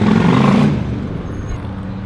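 A motorcycle passes by outdoors, loud at first with a low engine rumble, then fading away after about a second into a steady background traffic hum.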